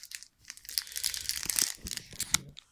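Crinkly plastic wrapper of a trading card booster pack (G-CB07 Divas' Festa) being torn open by one hand, a close series of crisp crackles and rips over a few seconds, with no talking.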